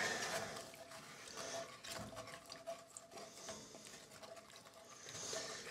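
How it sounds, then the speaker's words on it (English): Milk being stirred into sausage gravy in a pan, a continuous wet swishing and scraping with irregular soft clinks, moderately close and alone. "So I'm going to add about 1/3 of the milk, stir it in"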